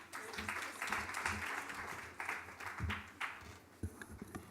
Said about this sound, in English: A round of applause for Mr. Tripathi, fantastic